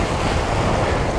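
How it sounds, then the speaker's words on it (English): Ocean waves on an incoming tide splash against coastal rocks at Sand Point, a loud, continuous close wash of surf mixed with wind noise on the microphone. "The waves are actually splashing up to where it needs to be stood."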